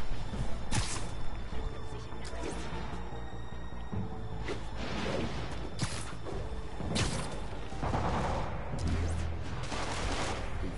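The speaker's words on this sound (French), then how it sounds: "À toutes les unités, fusillade en cours, répondez." Gunfire in a shootout in Marvel's Spider-Man near Carnegie Hall, heard as several sharp bursts scattered among mechanical whooshes and busy game noise, with faint talk underneath.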